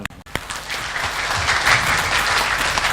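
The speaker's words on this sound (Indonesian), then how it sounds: "Oh, tepuk tangan." A crowd at a distributor training seminar breaks into applause after a couple of sharp claps, building quickly into dense, sustained clapping filling the room.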